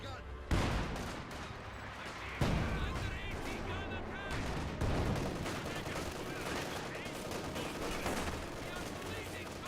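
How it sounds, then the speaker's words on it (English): Light artillery barrage in the video game Company of Heroes 2, with several heavy booming impacts spaced a couple of seconds apart over a constant din of battle and small-arms fire, while a commentator talks throughout. "This gun eyeing for light artillery barrage."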